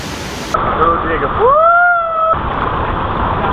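Heavy monsoon water rushes at Nanemachi waterfall in a loud, constant roar, with a person shouting over the torrent partway through.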